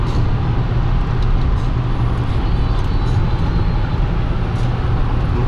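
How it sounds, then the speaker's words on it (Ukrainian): Steady, loud road and engine drone inside a Toyota Camry 30 cruising at 120 km/h on cruise control, a constant low rumble with tyre and wind noise and no breaks. "Ну, ми їдемо нормально, собі Toyota себе нормально веде."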